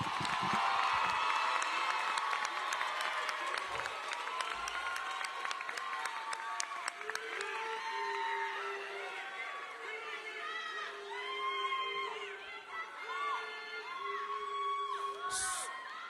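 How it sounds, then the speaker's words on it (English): A graduation crowd at Garrett Morgan School of Engineering and Innovation claps and cheers for its graduates, with whoops and shouts rising over steady applause that gradually thins into scattered voices and chatter. "Let's give our graduates another round of applause."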